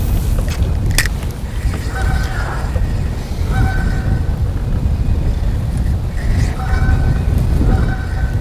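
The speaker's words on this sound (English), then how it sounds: "now I've got a big wind just killing me" Strong wind gusts roar across the microphone outdoors by a river, a loud steady low rumble that continues throughout with faint higher tones drifting in.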